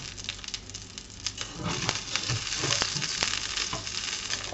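Fish sizzles and crackles steadily in a hot pan, the frying loud and close with occasional sharper pops and spits throughout.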